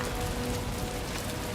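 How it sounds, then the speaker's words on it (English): Rain pours steadily in a gloomy horror video game, a dense, even hiss of drops on surfaces that keeps going without pause, with no voices. "Gloomy, rainy, and oppressive."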